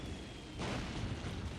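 A big explosion rumbles out in a Dawn of War Ultimate Apocalypse 4 vs 4 battle involving the Tau Empire, a sudden broad boom that swells midway and holds as a dense roar.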